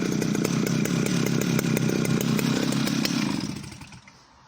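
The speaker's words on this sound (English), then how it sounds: "So there are a few of my beautiful, beautiful early 70s classic saws" Early 1970s classic chainsaws, a Danarm 71, Jonsereds 751 and Stihl 051 with 20-inch bars, running loud and close with a steady buzzing two-stroke drone that cuts off near the end.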